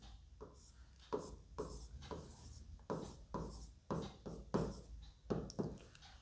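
Chalk or marker scratches across a classroom board in short, irregular strokes as a geometry proof is written out, each stroke a brief rubbing burst, close and fairly faint with pauses between.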